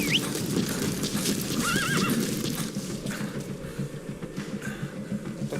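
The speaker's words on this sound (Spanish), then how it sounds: "Está el caballito." A horse in the video game Metal Gear Solid V: The Phantom Pain neighs and whinnies over a steady ambient game backdrop, the call rising briefly near the start and again in the middle, with no speech.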